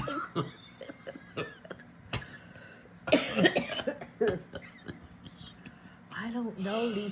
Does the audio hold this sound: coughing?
yes